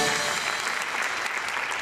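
Live audience applause at a televised Marathi comedy show: dense, steady clapping that fills the whole stretch at close, even loudness, with no voices over it.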